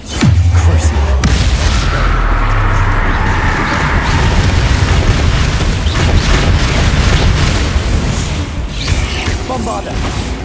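Spell explosions in the video game Hogwarts Legacy, magical combat with Bombarda and Confringo blasts, form a dense, loud, continuous barrage of booming bursts and crackling impacts lasting throughout, with no clear gaps between them.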